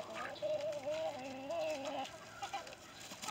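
Farmyard chickens cluck in a short, wavering run of calls, fairly close and steady against a faint background of outdoor noise.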